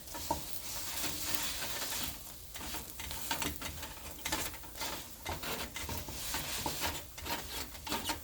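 Pav bread for pav bhaji frying in a pan as it cooks on the second side, a soft sizzle with scraping and stirring strokes, close and steady throughout.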